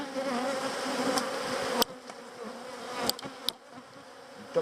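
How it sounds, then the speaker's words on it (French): Swarms of honeybees buzz densely around a beekeeper at work, a continuous close drone with sharp taps of bees striking a hat or veil, loudest at first and then thinning slightly. "des abeilles qui te stressent, ils te rentrent dans la gueule."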